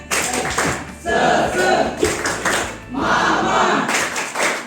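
A school class claps out a rhythmic spirit clap together, loud bursts of group clapping in a repeating pattern with short gaps between them, along with crowd shouts and a brief spoken word.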